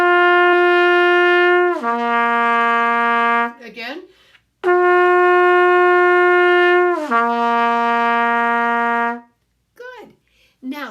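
Beginning trumpet sustaining a steady G, played as two long held tones with a drop to a lower note at the end of each, a brief spoken word between them.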